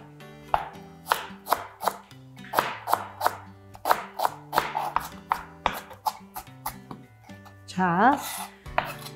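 A knife julienning the white part of a green onion makes rapid, close, crisp taps on a cutting board in an irregular rhythm, with a brief spoken word and faint background music.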